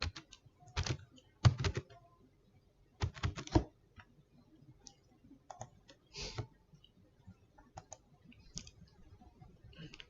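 Someone types a login email and password on a computer keyboard, close and clear. Quick bursts of key clicks alternate with short pauses, and the final strikes are sparser.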